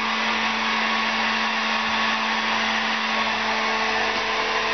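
A hair dryer runs steadily for the whole stretch, a loud, even blowing whir with a constant motor hum and no other sounds.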